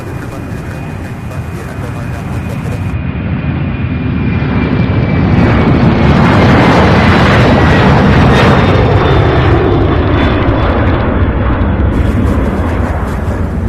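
UPS cargo plane, an MD-11 bound for Salt Lake City, taking off at Louisville airport, its jet engines swelling into a loud sustained roar that peaks midway and stays powerful, with a rising whine early on.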